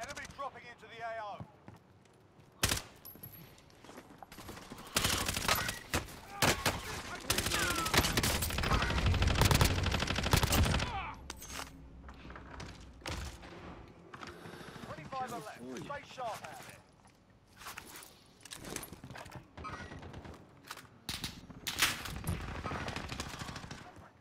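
Bursts of automatic and single-shot gunfire from a Call of Duty: Modern Warfare match ring out in clusters, loudest around the middle, with players talking excitedly over and between the shots.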